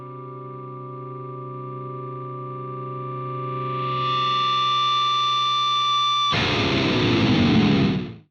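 A sustained Sterling Mariposa electric guitar chord rings out with heavy distortion and swelling feedback, then a burst of loud, crunchy strummed playing near the end.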